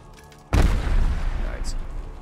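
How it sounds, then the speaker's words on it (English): A sudden, loud explosion in Call of Duty: Black Ops Cold War Zombies erupts as a deep boom, then a long rumbling roar that slowly fades over a couple of seconds. "I don't know if you can hurt yourself with those explosions"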